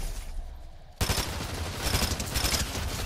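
Rapid automatic gunfire in the video game Fortnite, a sudden dense burst that starts about a second in and keeps rattling loudly and continuously to the end.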